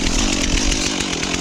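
A chainsaw, a Stihl MS362 or a ported Echo CS4910, cuts through firewood with a loud, close, continuous buzzing snarl that holds steady for the whole short stretch, with no voices.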